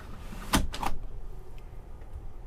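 The opening window in the sliding door of a 2022 Thor Synergy 19P B-Class RV slides along its track, a brief scraping rush followed by a second slide and a soft clunk, close and fairly quiet.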